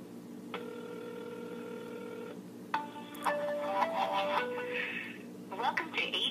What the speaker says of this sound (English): if we call 611, AT&T should be on the other end